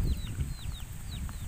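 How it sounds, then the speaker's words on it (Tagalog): Chickens cluck softly in quick, scattered calls over a low rumbling outdoor background. "Pati mga manok nagsipagpuntahan"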